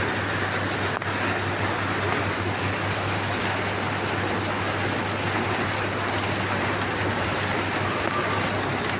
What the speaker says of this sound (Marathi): खूप पाऊस आहे काय तिकडं, खूप पाऊस.